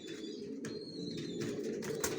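Racer pigeon chicks coo and murmur softly up close in a brief, continuous low burble, with a few faint higher peeps and light shuffling.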